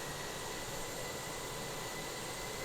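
Twin jet engines of a BAe 146 spooling in Microsoft Flight Simulator, a dense, even whine with a steady high tone and no talk.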